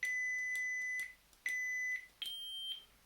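Three electronic beeps from a Korbanth LS V1 Hero lightsaber with a Proffie 2.2 board in its volume menu, two long tones at the same pitch followed by a shorter, higher one, close and clear.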